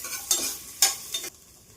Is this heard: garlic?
yes